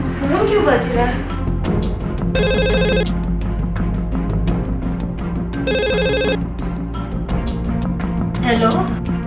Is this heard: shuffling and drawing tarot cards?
no